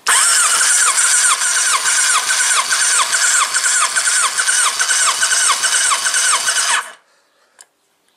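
A Kawasaki ZZR 1100 motorcycle engine cranks on the starter during a compression test on cylinder 3, a loud, steady rhythmic whirring chug for about seven seconds that cuts off abruptly into silence.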